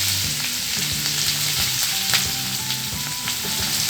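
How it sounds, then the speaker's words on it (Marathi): Onion frying in hot oil with mustard seeds and cumin for a cluster bean dish, giving a loud, steady close sizzle with light crackles and faint stirring throughout, without talk. "थोडीशी मोहरी थोडीशी जिरी त्याच्यामध्ये आपण कांदा टाकून घेऊया"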